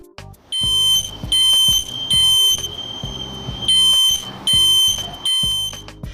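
A smoke detector under test sounds its alarm, loud, shrill electronic beeps in a repeating three-pulse pattern, with short pauses between bursts and nothing else heard.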